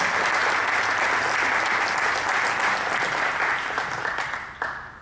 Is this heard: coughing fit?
no